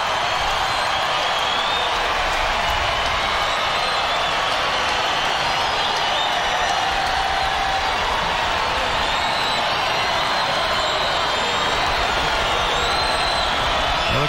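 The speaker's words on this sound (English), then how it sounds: "Big crowd tonight, and they're making noise." A big night crowd of about 39,000 at a baseball stadium makes a loud, continuous roar with scattered cheers and clapping that swells and settles over fourteen seconds, heard from within the stands.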